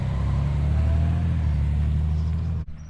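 Road traffic beside a roadside train station in Bucks County, Pennsylvania, a steady low rumble of passing cars and trucks that cuts off abruptly at the end.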